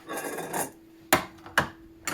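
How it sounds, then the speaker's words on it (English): A metal butter knife scrapes the underside of a block of rendered deer tallow, giving a soft rasping stroke followed by two sharp scraping strokes and a brief third, close and alone. "when scraping the bottom side of your tallow, it's best to use a metal butter knife"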